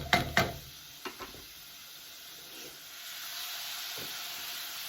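Chopped onions sizzle softly in a hot pan for rice cooking, with a few sharp scraping clicks of stirring early on, then a steady faint frying hiss that builds slightly toward the end.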